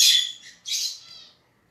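Pet lovebirds and a finch chirping indoors, with two quick, bright, high-pitched bursts of chatter close by and no talking.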